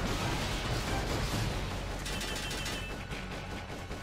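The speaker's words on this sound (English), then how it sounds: "I will shoot the gas tanks with rockets" Rockets strike gas tanks in Metal Gear Solid: Peace Walker, a dense, continuous roar of explosive blasts and rapid fire that stays loud, then eases slightly toward the end.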